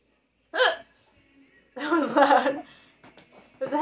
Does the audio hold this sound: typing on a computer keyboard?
no